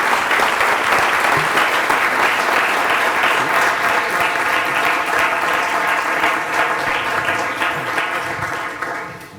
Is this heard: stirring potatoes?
no